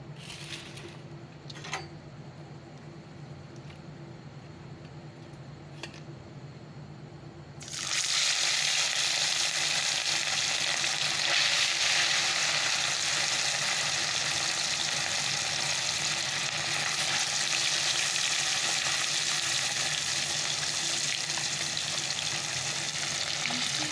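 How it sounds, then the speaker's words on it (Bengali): A pan of hot oil hums quietly until fish are dropped in, when a loud, steady sizzling roar bursts out and carries on evenly to the end. "তেলটা গরম হয়ে গেছে তো চলো মাছগুলোকে ছেড়ে দিই এবার"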